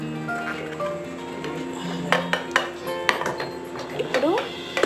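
A cake tin turned over onto a plate is tapped to release a chocolate biscuit cake, giving several sharp metallic knocks and clinks against faint kitchen background.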